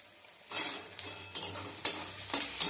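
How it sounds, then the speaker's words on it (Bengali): Onions fry in oil with whole garam masala for a potato, pointed gourd and soya chunk curry, a steady close sizzle broken by a few stirring scrapes, and nobody speaks. "গোটা গরম মশলা দিয়ে পেঁয়াজটাকে ভেজে নেব"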